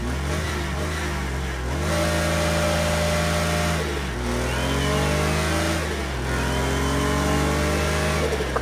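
A Porsche engine in Project Cars 2 revs up and settles repeatedly, its pitch climbing and falling in steady, loud, close waves with a smooth synthetic tone.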